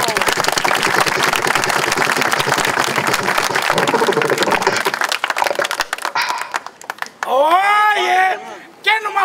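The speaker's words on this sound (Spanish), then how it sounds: "¡Fuerte los aplausos!" Studio audience applause for a beatbox performer on a street comedy show, loud dense clapping that fades after several seconds, followed by a voice speaking over a quieter background.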